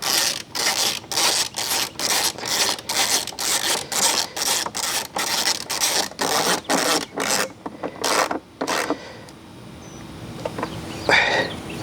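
A ratchet tightens the oil drain plug on a Terrain in a steady run of close, rhythmic clicking strokes that slows and then stops, followed by quieter handling noise.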